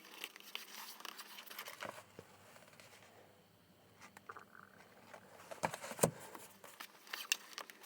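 Buckram book cover material is folded over along the fore-edge and pressed down with PVA glue, giving soft close crinkling and rubbing rustles in uneven bursts separated by quieter pauses.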